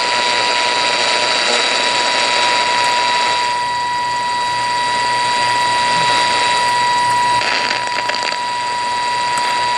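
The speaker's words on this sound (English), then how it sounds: "I have it just slightly off station, and as I turn the dial, you can hear that." A Crosley Playtime grandfather clock radio tuned slightly off station gives loud, continuous whining tones and hiss that waver as the dial is turned, with no talking.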